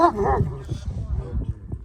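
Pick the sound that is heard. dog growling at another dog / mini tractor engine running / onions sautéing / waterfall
dog growling at another dog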